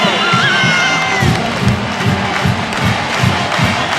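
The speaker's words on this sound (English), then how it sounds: "there it is, touchdown, and you hear it from the Tech crowd" Virginia Tech home crowd roars for a touchdown at a 1999 college football game against Virginia, a loud sustained stadium cheer with shouts and whoops throughout.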